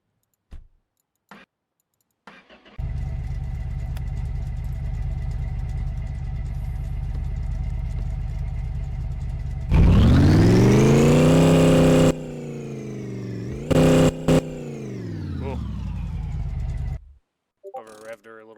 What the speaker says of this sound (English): it's idling with a ton of horsepower.